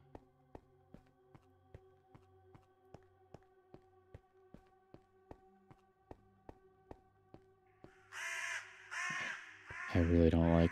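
Crows caw repeatedly in a steady, evenly spaced series of sharp calls inside a quiet video game world with dwellers and hounds. Near the end, louder crackling ambience and a voice come in over the calls.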